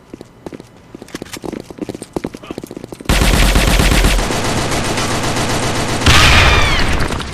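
Automatic weapon fire in the online shooter Sudden Attack: scattered loud bursts at first, then a dense, unbroken roar of rapid shots that grows even louder near the end, with no voices.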